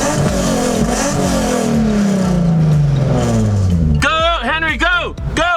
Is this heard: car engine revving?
yes